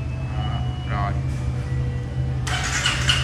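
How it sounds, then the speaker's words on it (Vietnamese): A 2019 Honda Rebel motorcycle with ABS idles with a steady low engine rumble close by, with a few faint tones over it and a burst of hiss near the end. "Rồi để em đề máy thử cho mọi người nghe tiếng nha."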